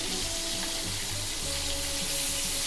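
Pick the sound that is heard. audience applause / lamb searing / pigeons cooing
lamb searing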